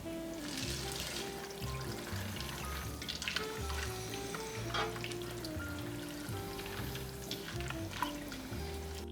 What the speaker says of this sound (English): Make sure you give it a good stir too, so nothing's sticking together